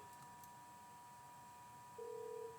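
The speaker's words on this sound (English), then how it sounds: "And now I'm going to dial." A telephone number dialed with a single short DTMF tone near the end, heard faintly against a steady low hum.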